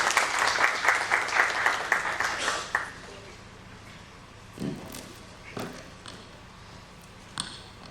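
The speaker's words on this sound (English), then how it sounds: "Let's keep the applause coming." Applause from the audience at an education summit in Pune: dense clapping for about three seconds, then it dies away, leaving a few scattered knocks and thumps in a quiet room.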